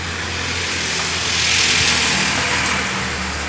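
A truck passes outside a car repair workshop, its engine noise swelling to a peak mid-way and then easing off under a steady mechanical hum.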